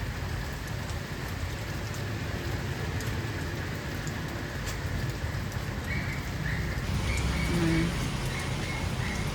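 Rain falls steadily on potted plants outdoors on an overcast afternoon, a soft continuous patter with occasional bird chirps in the background.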